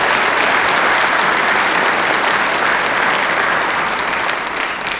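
Audience at a US Border Patrol Class 1184 graduation ceremony claps for special guests, a dense, steady round of applause from a large crowd that fades slightly at the end.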